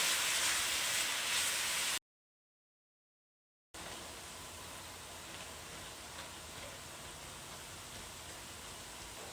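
Ground turkey browning in a pan, a steady broadband hiss of frying that runs continuously apart from a short break, with no voices.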